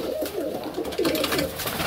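Pigeons coo steadily and close by in a winter setting in Barnaul, a continuous soft cooing over the whole short stretch with no talk.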